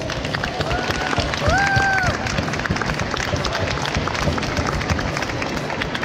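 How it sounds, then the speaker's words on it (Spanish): Steady, dense crowd applause for a contest third-place finisher, loud and continuous throughout, with a few whistles and cheers rising over the clapping. "Un aplauso para Sebastián."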